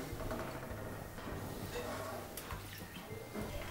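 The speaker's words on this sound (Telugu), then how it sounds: "ఆ కప్పుతో నీళ్లు పోసుకోవాలి" A cup of water is poured into a kadai of sugar for syrup, making a soft, steady splashing pour that is fairly faint against a low background hum.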